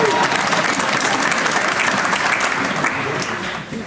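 Comedy club crowd clapping steadily at a stand-up show in Germany, dense and sustained applause that tapers slightly near the end.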